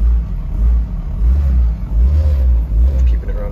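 A car engine with an intermittent fault surges and sags repeatedly under a held throttle, a loud rough mid-range roar that dips between revs as it struggles to keep running, with a voice speaking in the background.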